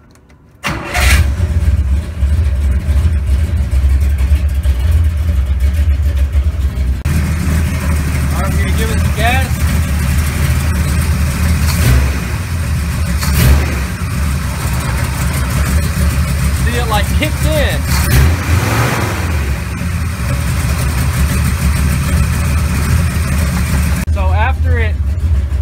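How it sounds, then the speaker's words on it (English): A car engine fitted with an internally regulated three-wire GM alternator starts and settles into a loud, steady run, rising with brief revs as gas is given. It stays close and continuous throughout, with faint talk over it. "let's start it up again, and we're going to give it some gas"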